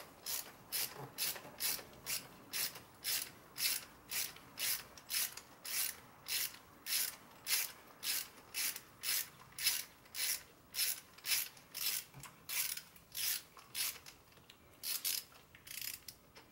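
A ratchet wrench works a spark plug loose from a 2012-2019 Chrysler 300 V6, clicking in a fast, even run of about two dozen crisp bursts, close up and alone.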